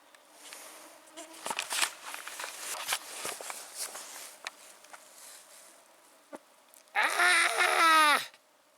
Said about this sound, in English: The days are enjoyable, but the nights belong to the mosquitoes.